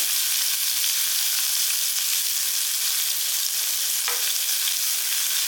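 Grated carrot and coconut sautéing in a pan for paniyaram, a steady bright sizzle close by with one brief scrape of a spoon, no voices.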